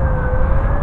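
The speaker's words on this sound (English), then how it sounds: "lovely sirens, gotta love it." A loud, steady siren wail fills the brief moment, with rumbling traffic noise underneath.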